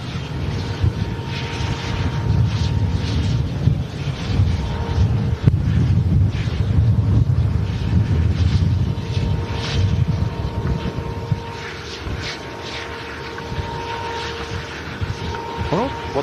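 Jet aircraft engines rumble steadily on an airport runway, a continuous broad roar with a faint whine, fairly loud and even throughout, easing slightly toward the end.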